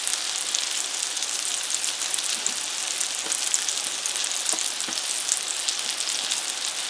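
Green tomato slices fry in a pan with a steady, bright hiss and crackle of hot oil, constant and close, with faint pops scattered through and no voices.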